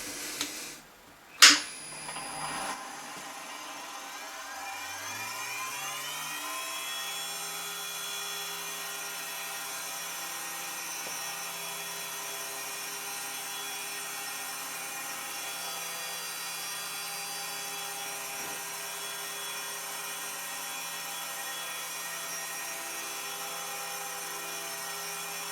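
A milling machine engraves a dial with a 0.8 mm ball end mill: a couple of knocks as the spindle starts, then a steady high whine with a low hum that holds unchanged, close and quiet.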